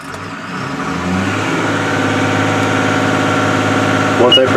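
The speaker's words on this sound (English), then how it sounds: "Engine RPMs up." A machine engine revs up during blade valve calibration, climbing after about a second to a loud, steady mid-pitched drone that holds to the end.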